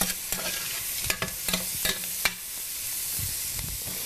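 Sliced mushrooms tossed into a pan on high heat, a soft broadband sizzle broken by several sharp scrapes and clacks of a utensil, then settling into steady frying.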